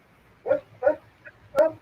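A dog gives four short barks and yips, close by, spaced irregularly over under two seconds with no talking.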